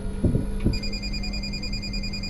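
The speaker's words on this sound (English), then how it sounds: "Phone's ringing." A phone rings inside a moving bus in sunny Berlin, a steady electronic ringtone with sustained tones that carries on for the rest of the moment over low engine rumble, after a couple of short bumps at the start.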